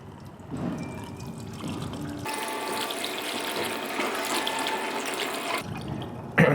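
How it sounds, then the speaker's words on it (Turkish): Apple juice poured into a container for homemade cider, a steady splashing liquid stream that swells after a couple of seconds and runs continuously, close and fairly loud, then tapers off near the end. "Elma suyumuzu koyalım."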